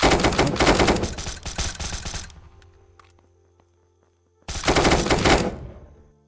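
Automatic gunfire in the video game Unturned: a loud rapid burst of shots lasting a couple of seconds, then a quiet gap, then another sustained burst.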